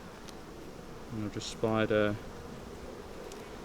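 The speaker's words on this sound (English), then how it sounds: "I've just shaken the bees off" Honeybees buzz close by during a hive inspection: a loud, harmonic drone swells in a couple of short bursts over about a second, over a faint background hum, while a voice speaks briefly.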